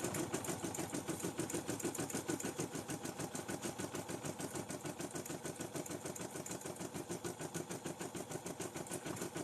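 A sewing machine, the slower of two machines and now used for testing new designs, runs steadily at close range with a fast, even mechanical chatter throughout.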